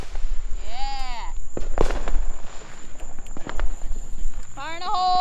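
Fourth of July fireworks set off nearby in Saint Cloud, with loud pops and bangs among whistling, rising shrieks as rockets launch, while people shout and talk excitedly over the noise.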